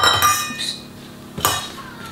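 A utensil clinks and scrapes against a bowl while flour is mixed into carrot cake batter, with several sharp clinks at the start and one more near the end, heard close up with no talking.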